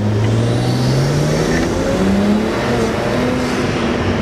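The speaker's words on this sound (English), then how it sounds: "I'm gonna go ahead and gas. I'll throw it in sport too." BMW with an N54 engine accelerating hard in sport mode, a loud, continuous engine roar climbing steadily in pitch from inside the car, with no talk over it.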